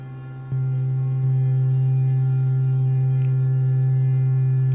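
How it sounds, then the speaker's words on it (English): EMS Synthi A oscillators patched in VCV Rack hold a steady, loud drone, swelling a step louder after half a second and again near one second, then sustaining evenly with faint high blips, no talking. "Yeah, that's actually drone."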